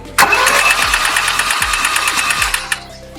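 A classic Mercedes engine cranks on its starter, wired by hand with the starter wires bridged, giving a loud, close, rhythmic churning whir for about two and a half seconds before it stops.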